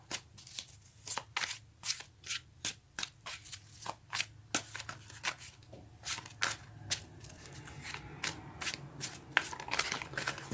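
A deck of tarot cards being shuffled in repeated quick riffles, a steady run of crisp snapping bursts close by, with a few scattered flicks toward the end.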